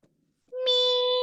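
A person imitates a cat's meow with a single drawn-out, steady, fairly loud vocal tone held for most of a second, following a brief faint murmur.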